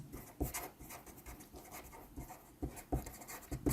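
A pen or pencil writes out the answer to a math question on paper. It makes soft, close scratching strokes in short irregular bursts, faint and quiet with no voice over it.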